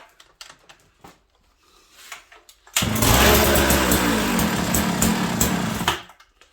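A Sachs Dolmar 133 chainsaw on a bench, choke off and set to fast idle, bursts into a loud, steady high-revving drone partway through after a few quiet knocks and handling sounds, runs for about three seconds, then cuts back.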